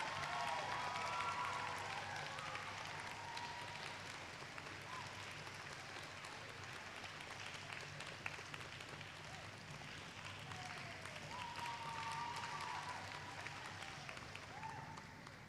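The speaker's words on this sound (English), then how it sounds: "Let's keep the claps coming, guys." Sustained audience applause at a graduation ceremony, filling the space steadily for the full stretch, with scattered cheers and faint voices mixed into the dense clapping.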